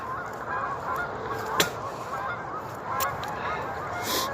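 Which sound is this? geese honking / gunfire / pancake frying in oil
geese honking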